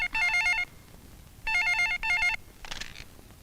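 An electronic telephone in an office rings in two bursts of warbling trills separated by a short pause, loud and close, followed by a fainter partial ring.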